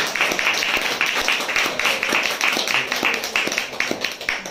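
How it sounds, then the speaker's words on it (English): A seated audience at a speaking event in Singapore applauds the speakers, a dense, steady patter of many hands clapping at once, loud and sustained throughout with no pauses. "please give them a big round of applause"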